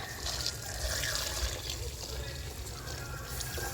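Water pours steadily into a pot of village-style bitter gourd and field bean sambar, a continuous splashing wash lasting throughout at moderate level.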